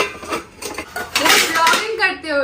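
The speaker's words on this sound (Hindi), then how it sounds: "इसके अंदर से घुसा हुआ बर्तन निकालना बिना खड़खड़ाए, उसका टैलेंट अपनी जगह है।" A metal cooking pot being pulled out from inside another in a home kitchen, giving a loose run of clattering, clanking metal knocks up close, mixed with a voice talking over it.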